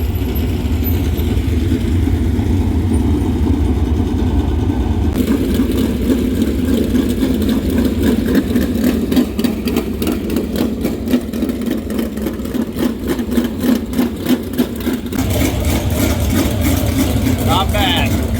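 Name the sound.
race car engines warming up at Swainsboro Raceway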